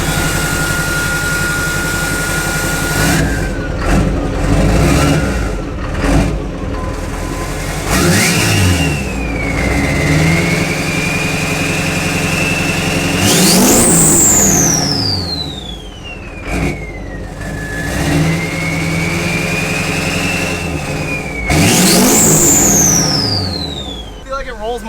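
Duramax diesel-swapped Chevrolet K20 truck revving hard in repeated pulls, engine climbing and falling with turbo whistle rising sharply over each burst, loud and close while running on an aggressive tune.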